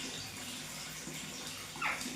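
Flowing water from a tap splashes steadily and close while a parrot bathes under it, with a brief faint chirp near the end.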